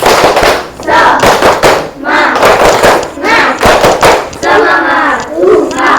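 A classroom of students performs a rhythmic spirit clap, sharp group claps in patterned bursts mixed with loud shouted chanting from many young voices, close and energetic throughout.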